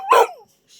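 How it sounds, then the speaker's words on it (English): A part pit bull dog with poor hearing gives a single short, loud bark close by, followed by a faint trailing whine, with no talk. "That's why his bark sounds like that."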